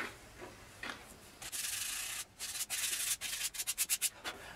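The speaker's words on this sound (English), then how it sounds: "if the grain curves, sand it around these curves" A wooden piece is sanded by hand, following curving grain, with close, soft scratchy strokes: a few isolated passes, then a sustained stretch, then a quickening series of short back-and-forth rubs.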